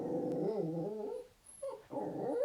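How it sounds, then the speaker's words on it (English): A dog growls and whimpers close by in low, rising and falling vocal tones, with a brief pause near the middle before the grumbling resumes; no talking. "What are you growling about over there?"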